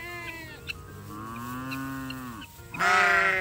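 Farm livestock calling with drawn-out, harmonic bleats and moos, one long call running through the middle and a louder burst at the end, close by with no talk.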